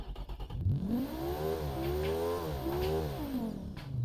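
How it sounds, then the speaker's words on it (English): A five-cylinder race car engine in the BeamNG driving game revs steadily, its pitch climbing, dipping briefly and rising again, loud and close with no talk over it. "Now let's listen to what the brand spanking new engine sounds like"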